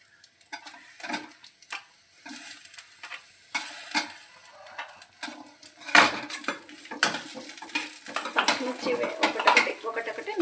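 Green chillies hit hot oil in a pan, a light crackling sizzle broken by clinks and scrapes of a metal spoon against the pan, with irregular close knocks that grow busier toward the end.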